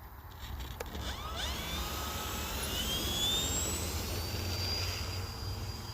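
An E-flite Viper 90mm EDF radio-controlled jet takes off, its electric ducted fan rising in a steady whining sweep to a high, sustained whine over outdoor rumble.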